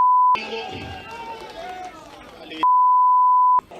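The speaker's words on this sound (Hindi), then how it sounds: "हमें बीप का सहारा लेना पड़ रहा है।" A steady, loud censorship beep tone covers offensive speech, sounding at the start, then again for about a second after a stretch of talk and crowd noise, and briefly once more at the end.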